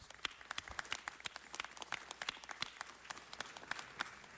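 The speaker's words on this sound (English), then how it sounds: "Let's give the Mr. and Mrs. Knoxes a round of applause" A city council meeting audience claps in sparse, uneven applause, with sharp individual claps standing out at moderate loudness and no talking over them.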